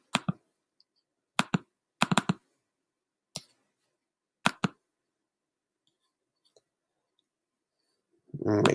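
Sharp isolated computer mouse clicks, a few single and doubled, spread across a quiet stretch, close and crisp, with a brief low burst of speech-like noise at the end.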